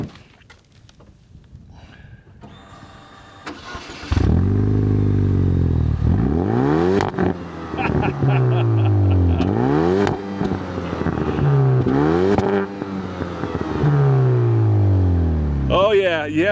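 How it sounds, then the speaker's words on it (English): A 2009 Chevy Cobalt SS cranks and fires up, then revs repeatedly with rising and falling pitch sweeps and a loud, raspy exhaust note, close up, with some speech heard before the start. "by far the best part of this car is the engine and the exhaust note"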